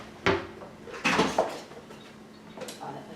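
Thick dough is stirred in a pot, giving a few scattered knocks and scrapes of the utensil against the pot at uneven intervals, with quiet background noise between them.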